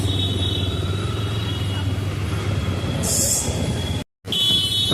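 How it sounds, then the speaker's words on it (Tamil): Road traffic rumbles near Cubbon Park in Bangalore, a steady loud engine drone with a faint high whine, a short horn-like blip, and a sudden brief cutout near the end. "எவ்வளோ டிராஃபிக் இருக்கு கப்பன் பார்க்குக்கு"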